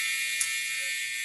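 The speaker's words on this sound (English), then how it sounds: "Timer. Time's up." Timer going off with a shrill, steady electronic tone that holds unbroken and fairly loud throughout, with no voices.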